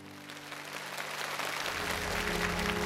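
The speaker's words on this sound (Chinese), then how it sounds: "所以再一次把掌声送给我们台上所有的木兰们" Applause from a stage-show audience swelling steadily into a broad, continuous wash of clapping, with music fading beneath it and no voices.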